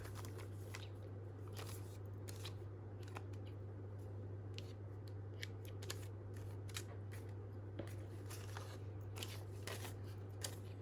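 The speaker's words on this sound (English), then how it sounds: "just snip off the excess threads" Scissors snipping excess threads off a paper junk journal pocket flip, a steady run of small crisp clicks and crunches over a low constant hum, with no talking.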